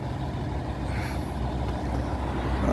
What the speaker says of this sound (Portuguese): Muito caminhão aqui parado.